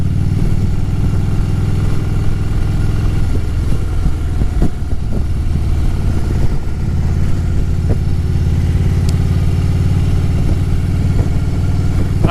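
A motorcycle engine runs steadily at close range, a loud, continuous idling rumble with slight fluctuations and a few clicks, recorded outdoors with no one speaking.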